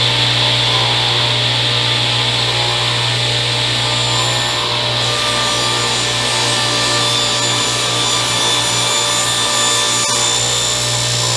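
A table saw runs loud and steady while cutting a shallow spline slot in wood, a continuous whine and hum with a slight change in tone midway, no voices over it.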